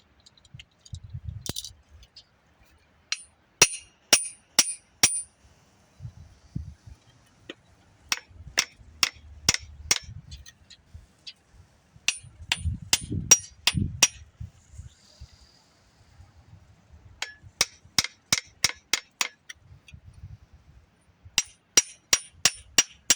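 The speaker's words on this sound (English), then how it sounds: "so now we're going to hammer this on." A wooden handle is hammered onto a small handmade garden digger in quick bursts of sharp, ringing metallic strikes, three to six blows per series with pauses and faint handling noise between them.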